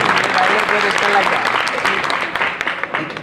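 An audience at a Hindi poetry recital claps loudly in a dense burst that thins toward the end, mixed with crowd voices.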